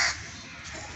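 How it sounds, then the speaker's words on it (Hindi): A crow caws once in the early morning, a short loud call right at the start, then fading into a faint outdoor background hiss. "सुबह सुबह ये कौवा बहुत हल्ला मचाते हैं यार।"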